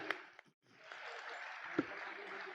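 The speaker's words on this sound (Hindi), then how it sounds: "इस पर तो तालियां जोरदार बजनी चाहिए।" Applause from an audience at a Sanatan sant sansad event fills the moment as a steady, moderately loud wash of clapping, interrupted by a brief dip, with a voice faintly mixed in.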